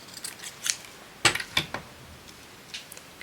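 Scissors cutting paper in a handmade journal, a few short crisp snips up close, with one cluster of quick cuts in the middle and quiet gaps between.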